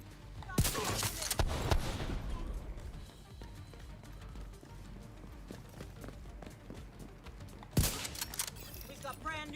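Gunfire in The Division 2 video game, loud bursts near the start and again near the end with scattered quieter shots between, over a busy combat background with a voice occasionally talking.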